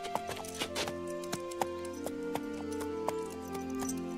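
Cartoon horse hooves clip-clop in a steady, quick rhythm, each hoof a sharp knock, set over sustained background music with no talking.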